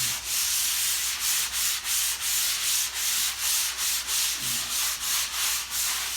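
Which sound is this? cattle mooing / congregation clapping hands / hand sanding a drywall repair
hand sanding a drywall repair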